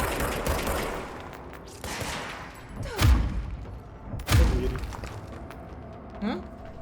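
Enemy gunfire in the video game Control on PS5, bursts of shots with two heavier thumping impacts near the middle, mixed with game sounds and talk over it.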